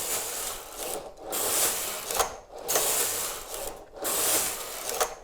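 Knitting machine carriage sliding across the needle bed while knitting striped rows, three long whooshing, clattering passes with short pauses between them, close and steady, with no voice over it.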